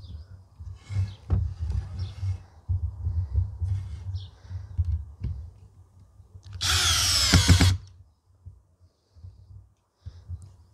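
A Parkside Performance PBSPA 12 C3 cordless drill driving long screws, with short bursts of motor whine and a louder sustained run of about a second near the end among quiet handling knocks.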